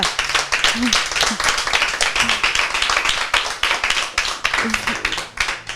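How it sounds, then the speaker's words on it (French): Studio audience clapping for the make-up contestants on a French TV show, a steady dense patter of many hands filling the whole stretch, with a few brief voices rising over it. "je leur demande encore une main d'applaudissement pour elles toutes"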